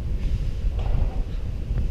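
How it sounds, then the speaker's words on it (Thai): Strong wind gusts roar across the microphone at a treehouse resort on a cold day after rain, a loud low rumbling buffet that continues throughout with no voices. "ลมแรงมากมากครับ"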